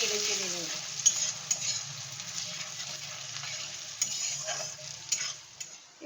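Gram flour (besan) stirred in hot oil in a pan, a steady soft sizzle running throughout with occasional scraping clicks of the spoon, close and alone without talk.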